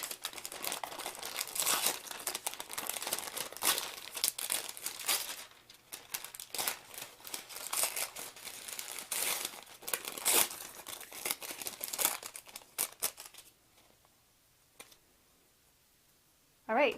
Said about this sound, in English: the way that you take this off is you just gently rip it